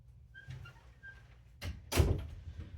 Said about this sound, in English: And I close the door so no family interruptions will impede our process.